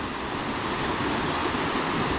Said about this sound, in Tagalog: nandyan lang yung ilog, river